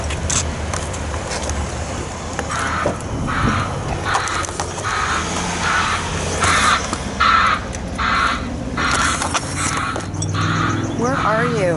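A bird squawks in a repeated series of harsh calls over traffic noise and a running vehicle, with people talking nearby.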